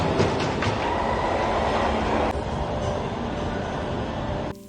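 Subway train at an underground station, a steady loud rumble with rattling clatter of cars on the rails, easing slightly partway through and cutting off abruptly at the end.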